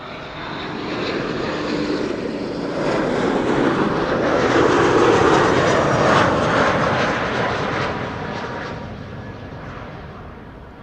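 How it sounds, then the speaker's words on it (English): A KLM airliner arriving from Stuttgart on landing at Amsterdam Schiphol, its jet roar rising to a broad, loud peak mid-pass and then slowly fading as it rolls away on a sunny day. "Arriving from Stuttgart, KLM flight 1828"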